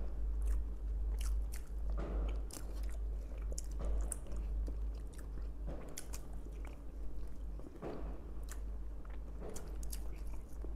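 Close, quiet eating of idli with chicken curry and eggs during a food challenge, with repeated soft bites, wet chewing and occasional crunches spread irregularly over the clip, with no talk.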